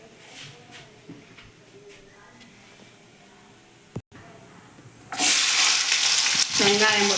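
Onions frying in a pan for crab masala gravy start as a faint sizzle, then after a sharp clatter burst into a loud, roaring hiss that holds steady to the end.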